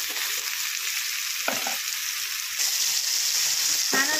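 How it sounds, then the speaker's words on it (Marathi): Onion, garlic and tomato sauté in a hot pan with a steady close sizzle and frying hiss, broken by a few soft stirring scrapes, with no talking. "कांदा लसूण परतताना थोडंसं मीठ घालायचं म्हणजे लवकर आपला कांदा। त्याचबरोबर टोमॅटो देखील आपल्याला परतून घ्यायचं।"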